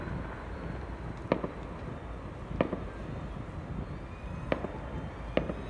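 Fireworks go off at night during Chinese New Year celebrations in Nanhu, China, four sharp distant bangs spaced a second or two apart over a faint windy background.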